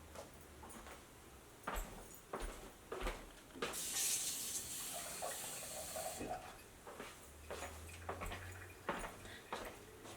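Water is poured into dosa batter in a bowl, a soft splashing trickle that swells into a brief gush before settling back to faint stirring and handling noises.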